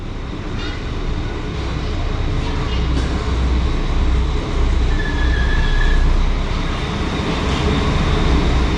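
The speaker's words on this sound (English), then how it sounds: "here we can take a look at the arrival of this train at Norderstedt" An AKN Lint train arriving at Norderstedt station rumbles steadily with a low, continuous roar and some brief higher squeals, loud and close throughout.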